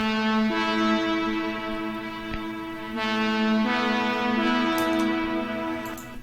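A sustained synth lead chord drenched in reverb rings out steadily, its sidechain compression and EQ turned down so the sound stays washed-out and distant, with a few bright transient flickers near the end.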